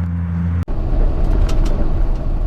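A 2009 GMC C6500 flatbed truck with a 7.8 liter Isuzu turbo diesel runs nearby, a loud, steady low rumble after a brief cut near the start.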